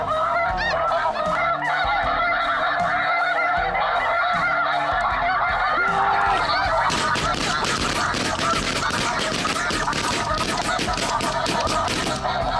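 Snow geese honking in a dense, continuous chorus during a Midwest waterfowl hunt, with a burst of rapid shotgun fire breaking out partway through and overlapping the calls.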